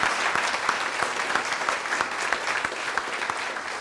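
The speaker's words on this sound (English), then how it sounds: "let's give a round of applause to all our new members" Audience at a Hoover chamber of commerce meeting applauds its new members, a lively burst of many hands clapping close by, steady and unbroken for a few seconds.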